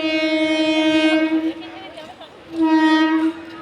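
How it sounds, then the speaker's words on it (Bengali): A train pulls into Sonarpur station near Kolkata, sounding its horn in two long steady blasts separated by a short pause, loud and close. "এতক্ষণ পর ট্রেনটা আসছে"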